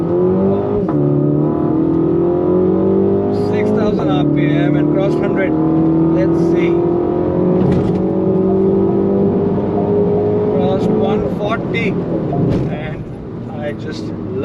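A Mini Cooper S Convertible with a JCW kit accelerates hard in sport mode with traction control off, its engine note climbing steadily through the revs, briefly dropping at each gear change, while someone talks over it inside the cabin.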